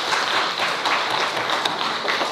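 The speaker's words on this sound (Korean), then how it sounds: "우리 박수로 환영하겠습니다." A church congregation at a Sunday worship service claps together to welcome a newcomer, a steady, dense patter of many hands filling the room evenly for a couple of seconds.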